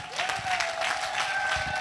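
A church congregation claps hands loudly and steadily, a dense sustained patter filling the room, with a faint tone held underneath.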